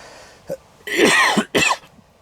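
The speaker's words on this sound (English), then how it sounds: "I couldn't stop coughing." A brief throat sound, then a harsh, raspy coughing fit in two strong bursts after swallowing a fly, close and loud, fading into quiet breathing.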